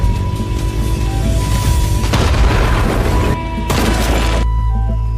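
A thrown bomb explodes in a cave hideout in the film Beyond the Reach, a loud deep boom with a crashing burst that repeats, rolling over a low continuous rumble.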